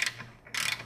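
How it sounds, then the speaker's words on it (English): A hand ratchet clicks in two quick bursts as it backs out the 13 mm screws on a sway bar end link of an MK7 GTI, close and fairly quiet with a short pause between runs. "they're two 13 millimeters, one wrench, one ratchet,"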